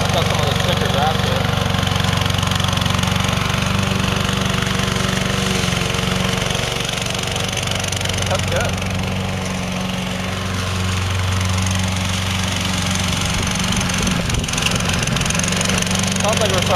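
A radio-controlled lawn mower, running again after 12 years and low on gas, drones steadily with a near, continuous engine hum throughout, its pitch wavering slightly as it cuts through stickers outdoors.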